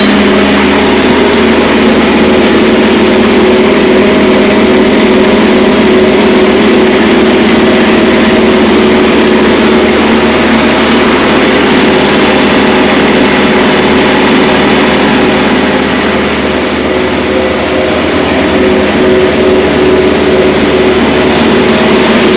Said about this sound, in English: This is a muffler system that we use to deflate the tires.